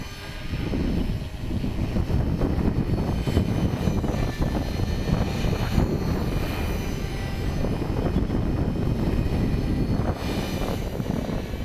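An HK450 Pro radio-controlled helicopter flies on a windy day, its motor and rotors giving a continuous, fairly loud buzzing whine that holds steady throughout, mixed with rough wind noise and no talking.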